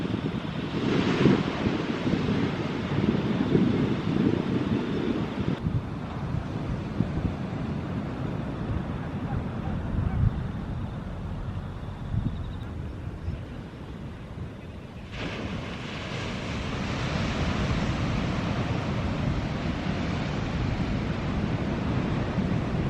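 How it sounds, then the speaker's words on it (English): Ocean waves wash ashore at night near Pukeiti Forest, Mt Taranaki, New Zealand, a broad continuous roar with wind buffeting the microphone; the surge dips quieter midway before building back up. "going to sleep that night to the sound of the waves"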